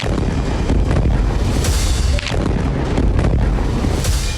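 Israeli bombing strikes in Lebanon: loud, heavy explosions and deep rolling booms pile up in a continuous roar, with repeated blasts and rumbling, wind-buffeted noise and no speech.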